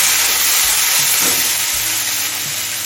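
A food bundle fries hard over high flame in a pan for a potato and kudri posto dish, giving a loud, steady sizzle and hiss with occasional stirring scrapes.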